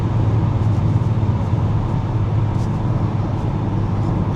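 A Volkswagen Golf R Mk6 engine running close by, a loud continuous low rumble that holds steady throughout with no talk over it.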